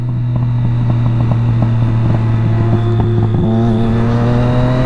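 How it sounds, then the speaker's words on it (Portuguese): A Triumph Daytona 675 sport motorcycle engine on a race track: a loud, close, steady drone that jumps to a new pitch partway through, with no talking. "Olha o barulho da moto dos caras"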